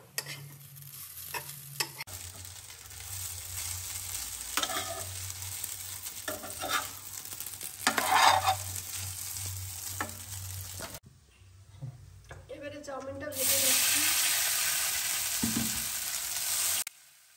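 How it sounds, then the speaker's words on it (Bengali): Vegetable rice frying in oil in a wok, heard as a close steady sizzle under repeated stirring scrapes, with a brief quieter gap before a louder burst of hissing near the end. "এবারে দিয়ে দিচ্ছি তেল আর এটা সবজি চাউলটা"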